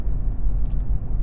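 Low, steady rumble inside a moving car, a deep continuous road drone with slight fluctuations and no talking over it.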